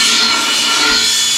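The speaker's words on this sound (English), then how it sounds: "So now I can see I need to do a little filing." A hand file rasps against the metal of a rear bumper being built for a 1995 4x4 Ford Econoline 7.3 van, a steady, loud, hissy scraping that fills the whole moment with no talk.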